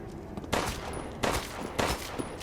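Three loud bursts of gunfire in the video game Resident Evil Village crack out about every second or so, sharp and close, over a steady background hum with no speech.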